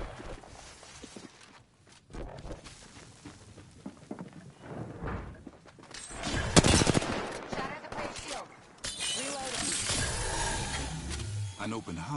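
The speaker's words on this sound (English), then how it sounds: "Opening fire on our prey." Video game gunfire opens up on a tagged target amid busy game sounds, bursts of shots rising to a loud peak mid-clip then continuing under narration.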